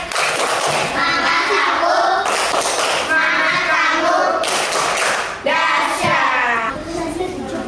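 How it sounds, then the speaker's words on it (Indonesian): A classroom of children does a rhythmic spirit clap, sharp patterned bursts of claps and taps repeating in sequence with brief pauses between, mixed with the children's voices. "kalau sudah siap, tepuk semangat"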